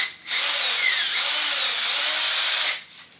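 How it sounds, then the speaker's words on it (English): A handheld power drill spins a slotted nut wrapped in sandpaper, giving a steady, loud high-pitched whir that runs for about two and a half seconds before winding down, alone with no talking. "around slotted nut, around the drill"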